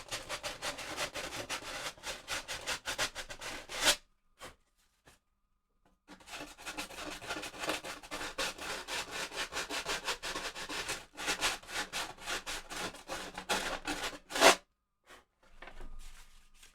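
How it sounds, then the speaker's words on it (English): Sandpaper rubs along the edge of a wooden guitar body in quick, rhythmic strokes, close and scratchy, stopping for brief pauses before starting again. "I just need to now sand that edge and get that cleaned up."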